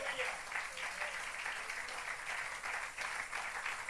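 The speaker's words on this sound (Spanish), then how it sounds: "Le damos un fuerte aplauso a Él," A church congregation claps together in sustained applause during a service, a dense, steady patter of many hands at moderate distance.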